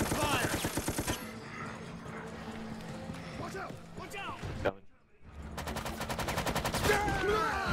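Video-game gunfire in Resident Evil Operation Raccoon City multiplayer: rapid rattling bursts at the start and again near the end with a short silent gap between, mixed with game sounds under a player's talk.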